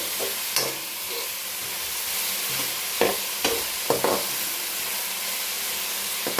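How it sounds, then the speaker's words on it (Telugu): Onions fry with salt in a pan, a steady hissing sizzle broken by a few sharp scraping clacks as they are stirred, heard close and alone without talking. "సాల్ట్ వేస్తే ఆనియన్స్ తొందరగా ఫ్రై అవుతాయి. ఇంకా సాల్ట్ వేస్తున్నాను. సాల్ట్ వేసి మళ్ళీ ఒకసారి కలిపేసి"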